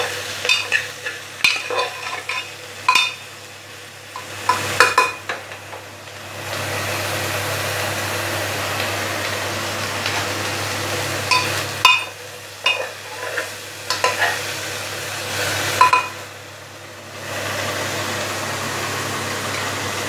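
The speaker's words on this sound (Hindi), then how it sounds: "दो से चार मिनट सब्जियों को हम अच्छे से भूनेंगे।" Vegetables and soybean chunks fry in a pan for biryani, with bursts of stirring and scraping of a spatula between stretches of a steady hissing sizzle over a low hum.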